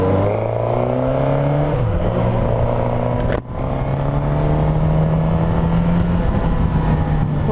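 A 2021 Suzuki GSX-S1000 motorcycle engine hums loud and close with steady droning harmonics, briefly dipping in pitch as it shifts, then pulling evenly while riding.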